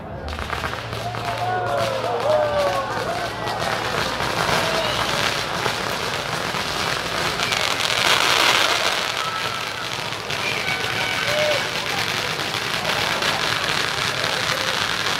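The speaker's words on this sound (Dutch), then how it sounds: "we beginnen heel klein met een fontein van importeur Leslie. En de naam van dit stuk vuurwerk is Crackling Connick" A Crackling Connick firework fountain crackles steadily at a street fireworks demo, a dense hiss of small pops and sizzles lasting throughout, with crowd voices and chatter mixed in underneath.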